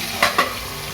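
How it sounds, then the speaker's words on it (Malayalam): Chicken pieces frying in a covered pan for a fried chicken dum biryani, a steady soft sizzle with two quick louder scraping or stirring bursts close by. "ഈ ചിക്കൻ ഞാൻ നനച്ച് കൊടുത്തിട്ട് നമുക്കിതൊന്ന് മൂടി വെച്ച് വറുത്തെടുക്കാം"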